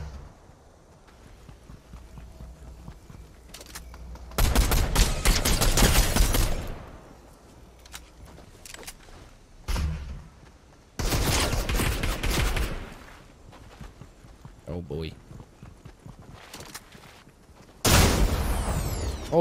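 Shotgun blasts and other gunfire in a Fortnite match come in loud broad bursts with quieter gaps and softer game noise between them, with no talk.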